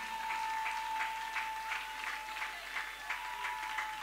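A church congregation applauding to acclaim the Lord, a soft, fairly distant wash of rhythmic clapping with a steady tone beneath and no clear cheering.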